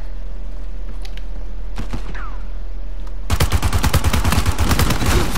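Automatic gunfire in an Uncharted 4 multiplayer match, scattered distant shots at first, then a sudden loud, rapid burst of sustained rapid fire lasting the last two seconds.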